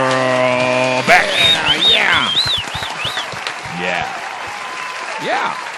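Applause sound effect played from a soundboard on a live radio show, a burst of clapping that comes in after a sustained musical tone and continues under lively, animated voices and laughter.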